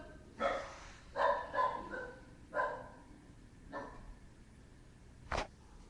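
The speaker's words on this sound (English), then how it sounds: "That's my dog barking." A dog barks about six times in irregular bursts, moderately near and alone against a quiet background, the last bark sharper and shorter.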